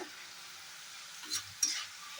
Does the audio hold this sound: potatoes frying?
yes